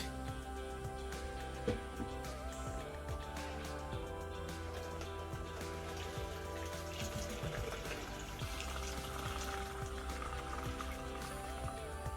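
Blended coconut is poured steadily through a strainer into a container, a continuous close liquid trickle and splash with no talking.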